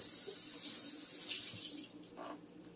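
Tap water runs steadily into a kitchen sink being filled to soak, a continuous close hiss with a brief clatter near the end and no talking.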